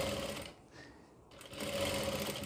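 A sewing machine stitches the piping on a gown, a close, steady mechanical whir that pauses briefly mid-run before resuming.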